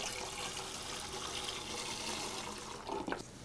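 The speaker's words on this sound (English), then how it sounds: "first thing you're gonna do is you're gonna put in all the beef broth" Beef broth poured into a cooking pot for pho, a steady close splashing and gurgling stream of liquid that runs throughout with a brief louder splash near the end.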